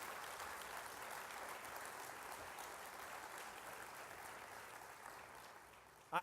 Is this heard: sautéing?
no